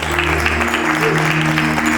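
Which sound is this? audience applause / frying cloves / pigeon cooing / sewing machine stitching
audience applause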